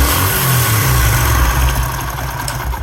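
Motorcycle engine running loud and near during an ignition timing check with a timing light, holding a steady idle with a slight rise in revs and no talk over it.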